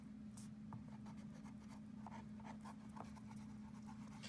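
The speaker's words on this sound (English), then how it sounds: "We want to spread the glue out to be as thin as possible and try to cover as much as the paper as we can." A glue bottle nozzle spreads glue thinly across paper for a paper sculpture, giving soft, repeated scratchy strokes over a steady low room hum.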